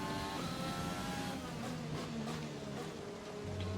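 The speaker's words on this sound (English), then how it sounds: "I just love that sound of the downshifts" An F1 car in the F1 2020 racing game drops through downshifts, its engine note stepping and revving in quick bursts, with a steady high whine over a low growl and no talk.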